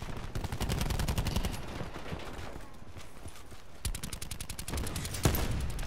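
Sniper rifle gunfire in Call of Duty: Black Ops 4, heard as dense, loud game combat with rapid repeated shots and a sharp crack near the end, while players talk over it.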